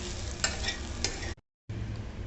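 Okra (bhindi) with a little turmeric being stir-fried in a pan gives a loud, close sizzle with a few scraping stirs, broken by a brief gap of silence before the frying resumes.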